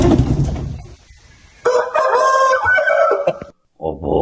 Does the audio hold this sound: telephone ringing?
no